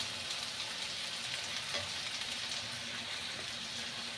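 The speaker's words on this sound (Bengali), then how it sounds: "পেঁয়াজগুলোকে লাল লাল করে ভেজে নিচ্ছি।" Onions and ginger-garlic paste frying in oil for a chicken gravy give a steady, dense sizzle with faint crackles throughout, close and even, with no talking.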